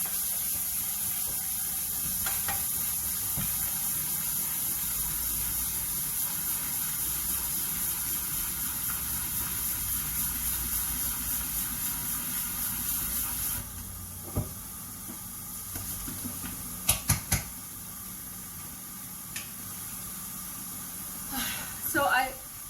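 Pancake batter made with eggs and sour cream sizzling in an uncovered pan, a steady soft hiss running throughout, with a few clicks and clatters near the end and a person talking over it.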